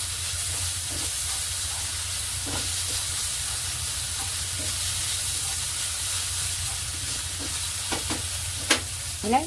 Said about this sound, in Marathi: तर कांदा थोडासा लालसर करायचा आहे, तोपर्यंत भाजून घ्यायचा आपण।